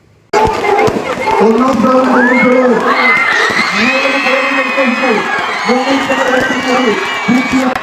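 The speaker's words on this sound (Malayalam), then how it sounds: "ആ അനൗൺസ്മെന്റിന്റെ ആരവാണ് ഇപ്പൊ കേട്ടത്" Large school crowd roaring after an overall first-place results announcement, bursting in suddenly and sustaining loud cheering, whoops and shouts, with rhythmic chanting pulses throughout.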